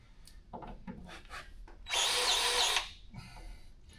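A grease gun pumping air while greasing parts on a cargo trailer: a loud, broad hissing spurt of about a second stands out between softer clicks and handling taps, with no talking.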